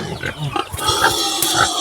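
A pig in a dirty pen grunts in short, low, rhythmic bursts close by, with rustling and background noise around it.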